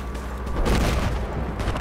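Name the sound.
sniper gunfire in the video game Battlefield 4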